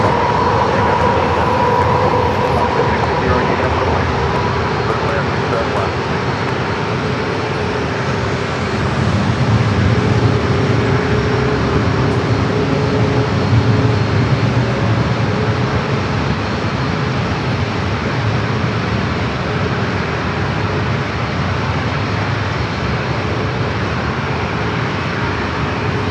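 A Boeing 737 MAX 8 airliner at San Diego airport gives a steady, loud jet engine roar that holds without letup, broadband and continuous, with no voices.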